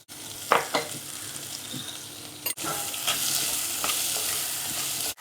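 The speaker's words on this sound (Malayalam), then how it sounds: "കുറച്ച് കറിവേപ്പില, എല്ലാം കൂടെ ഒന്ന് വഴറ്റാം." Onions, green chillies and curry leaves with salt are sautéed in a pan for a curry, with a steady sizzle and scraping stirs. One sharp clatter comes midway, and the frying grows louder afterward.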